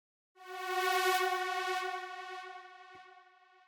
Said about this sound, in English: the first sound is a synth step, sounding like this.